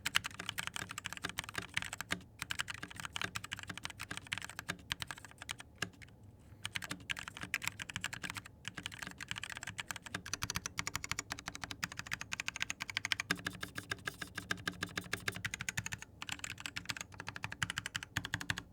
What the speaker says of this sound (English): Those silver silent switches are so nice to type on.